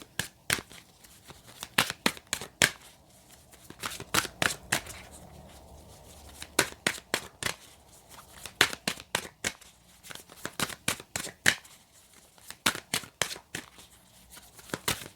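A deck of oracle cards is shuffled by hand, giving close, crisp bursts of riffling and snapping card edges that repeat in irregular clusters throughout, with no talk over them.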